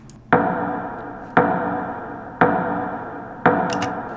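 Four evenly spaced sharp snare-like hits, each with a brief decaying ring, repeating at a steady slow pulse with no voices.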